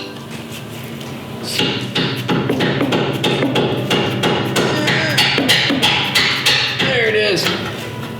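Metal hammer blows drive a coilover bolt through the rear knuckle of a Nissan 370Z, a run of sharp, close, ringing strikes in an uneven rhythm, with someone speaking briefly between them.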